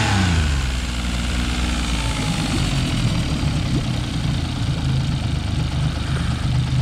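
A boat's inboard engine idles steadily after warming up with the choke off, a close, loud low rumble that stays even and continuous throughout, with no talk over it.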